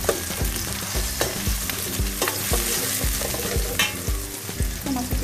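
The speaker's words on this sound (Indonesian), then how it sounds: "Aduk lagi sampai harum dan bawang merahnya sedikit layu." Shallots frying for rasam being stirred in a pan, a loud continuous sizzle with rhythmic scraping and knocking spatula strokes about twice a second.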